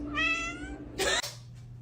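A cat gives two close, clear meows, the first drawn out and the second sharper and rising, over a steady low hum.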